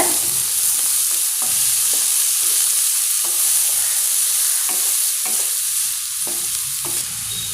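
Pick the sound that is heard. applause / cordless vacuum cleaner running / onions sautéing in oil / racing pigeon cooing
onions sautéing in oil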